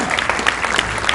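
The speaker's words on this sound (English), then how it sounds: "Give him a big round of applause." A brief burst of audience applause, dense hand clapping from a crowd, loud and steady throughout.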